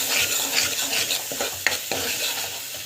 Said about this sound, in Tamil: ஸோ டமாட்டா தொக்கு வந்து போடலாம். வதக்கிக்கலாம்.